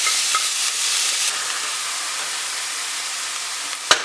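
Chopped onions and two cloves of fresh garlic sizzle steadily in a frying pan on turned-down heat, a close, even hiss with faint crackles and a brief clatter near the end.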